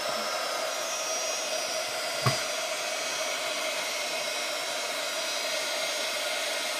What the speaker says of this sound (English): Then we want to use our heat tool and melt that so it's ready to go.